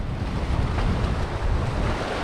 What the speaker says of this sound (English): It's a little bit windy, so don't mind the noise